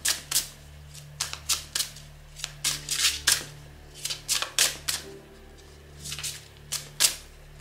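Oracle cards shuffled by hand for a card reading, a run of crisp riffling bursts in irregular clusters over about seven seconds, close and moderately quiet with short pauses between.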